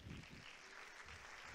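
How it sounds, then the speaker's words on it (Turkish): Audience applause welcoming a speaker onto a stage at a live talk event, a brief steady wash of clapping from a crowd, fairly faint and without voices. "alkışlarınızla Mehmet Auf"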